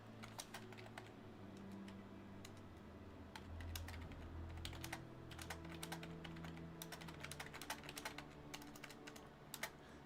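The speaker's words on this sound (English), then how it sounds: "I know you guys can hear my keyboard clacking away." A loud clicky computer keyboard clacks away in steady bursts of rapid key presses, close and continuous over a low background hum, with no talking.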